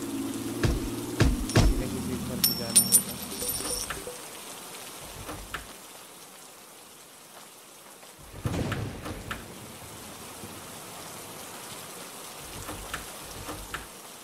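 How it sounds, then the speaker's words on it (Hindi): Rain patters steadily at monsoon onset in an Indian village, a soft continuous hiss with occasional louder drips and splashes, faint and fairly distant, with brief bursts of other noise early on. "तो वर्षा होगी।"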